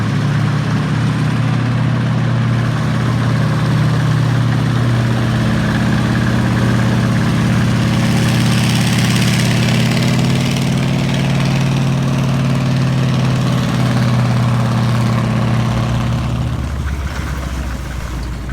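A Sherman tank's big, heavy engine idles loudly and steadily up close, a deep rumbling drone that holds for the whole stretch with no voices.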